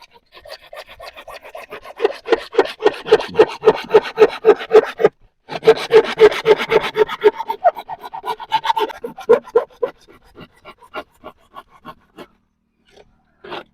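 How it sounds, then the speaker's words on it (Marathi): A hand saw cuts the face off a PVC pipe socket in a quick, rhythmic series of close rasping strokes. There is a brief pause partway through, then the strokes resume and thin out into scattered scrapes, with no talk. "ते सॉकेट जे आहे ते या या ठिकाणी समोरची बाजू आहे ती कट करून घ्यायची"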